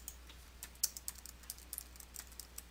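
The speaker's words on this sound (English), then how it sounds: "type an item receipt code or other distinguishing information into the Memo field" Typing on a computer keyboard while entering data into accounting software, a quick, soft, irregular patter of key clicks close by over a faint steady hum.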